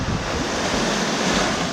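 Waves wash onto a beach in the Seychelles, a dense roaring surf mixed with wind buffeting the microphone, loud and continuous.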